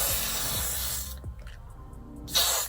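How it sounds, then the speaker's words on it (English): Got2b hairspray sprayed onto the edges of a ginger wig: a close, loud aerosol hiss for about a second, a pause with soft handling clicks, then another short burst of spray. "you spray some Got2b."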